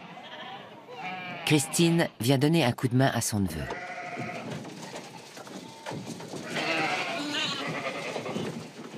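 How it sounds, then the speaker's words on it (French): Sheep bleat repeatedly on an Icelandic farm during a summer sorting into groups, several loud nearby calls clustered early, then fainter bleats and farm noise continuing beneath a narrator's voice. "les moutons vont être séparés en groupes."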